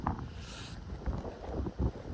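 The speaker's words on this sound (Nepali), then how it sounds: "सरर हावा पनि आएको छ" Wind blows across the open highland of Dhorpatan in Nepal, a steady low rushing rumble buffeting the microphone in small swells, with no voices.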